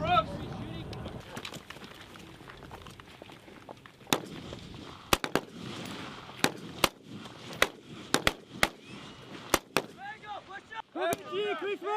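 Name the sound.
US Marines heavy weapons live fire, gunfire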